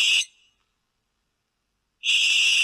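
A young barn owl chick gives its harsh, hissing screech in two loud bursts separated by nearly two seconds of silence.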